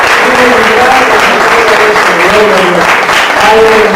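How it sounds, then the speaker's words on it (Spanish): Loud, sustained clapping from a crowd throughout, with a voice speaking over the applause. "Un aplauso fuerte"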